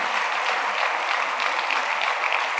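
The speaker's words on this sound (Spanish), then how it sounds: "Hay que aplaudirle a Dios" A church congregation at a Sunday school service claps in a dense, continuous burst, close and fairly loud, with no other sound standing out.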